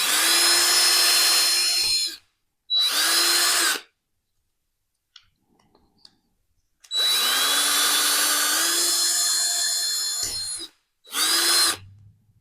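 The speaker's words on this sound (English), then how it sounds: "So now I need to drill some holes into this." A power drill whines in several bursts, two long runs and two short ones, separated by silence, with a high grinding tone as it drills holes into a glass vase.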